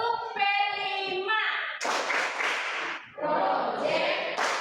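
A group claps in rhythm during a Tepuk P5 clapping chant at a school class session, sharp bursts of clapping alternating with chanted voices at moderate loudness.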